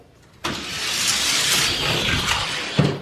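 A Hot Wheels diecast Porsche 911 toy car runs down a plastic track with a sudden onset, then a close, loud rolling whir lasting a couple of seconds, ending in a sharp knock.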